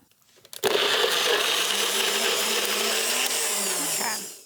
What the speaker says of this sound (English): I pre-froze some bananas, and we're going to add about 1 banana to the blender.